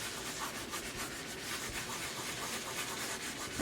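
Steady, continuous rubbing of a vinyl transfer onto tile, a close, even scratchy friction sound with no pauses or speech.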